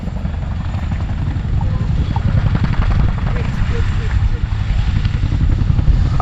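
A Chinook helicopter at an air display gives off a loud, continuous, thudding rotor drone with heavy low rumble, close and steady throughout; a voice talks over it.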